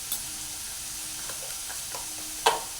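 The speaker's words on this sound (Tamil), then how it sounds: "போட்டுட்டு எல்லாத்தையும் ஒன்றா சேர்த்து வதக்க வேண்டியதுதான்" Onions sautéing in a pan with asafoetida, turmeric powder and a little chilli, a soft continuous sizzle broken by a few light stirring scrapes and one sharper clack of a spoon near the end.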